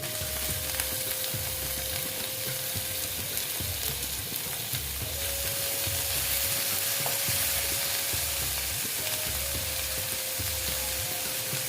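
Chopped tomato frying with ginger and onion, a steady loud sizzle over a repeated rhythmic stirring thump and a faint background hum, close by.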